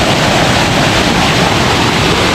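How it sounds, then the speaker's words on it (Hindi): Water rushes steadily through a channel feeding a village watermill in Dardyal, Swat, a loud, continuous, broadband roar close to the listener with no breaks and no voices. "इधर से पानी का प्रेशर चेक करें"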